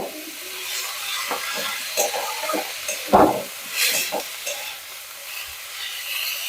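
Vegetable cheese balls frying in oil while being turned, a soft sizzle with intermittent light scrapes and one sharper knock of the spoon against the pan, no talking.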